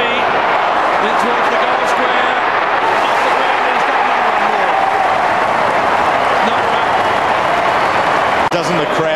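A big football crowd roaring as Essendon score a goal against Sydney, a loud continuous swell of cheering and clapping filling the stadium, with commentary voices beneath and a brief sharp knock near the end.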